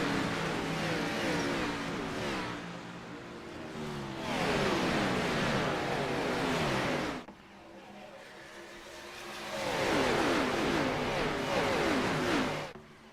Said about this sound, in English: Jaden Porter hits the loud pedal, and we are racing here at Atlanta